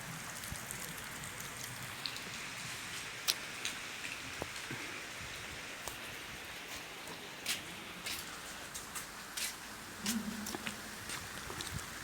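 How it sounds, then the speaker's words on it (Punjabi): Steady rain falls outdoors over fields of wheat in a village farm setting, a soft even hiss with scattered sharper drips and taps close by. "ਦੇਖੋ ਵਧੀਆ ਮੀਂਹ ਪੈ ਗਿਆ"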